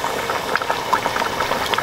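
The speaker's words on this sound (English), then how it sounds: "we're just gonna let it boil and vibe" A big pot of seafood boil with giant king crab legs bubbles steadily, a dense, continuous rolling boil with small pops and rattles, close and fairly loud, no voices.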